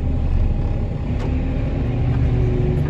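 Farm vehicle moving a trailer into place, a loud, steady low engine rumble held close by, with no clear change in pace.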